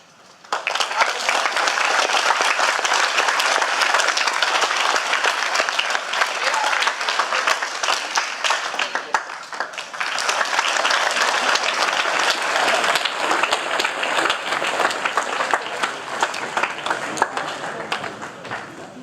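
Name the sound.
audience applause for veterans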